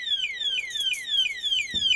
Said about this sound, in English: you get a warning signal, then the alarm goes off like that